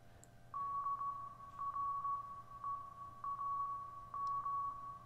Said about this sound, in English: Morse code again.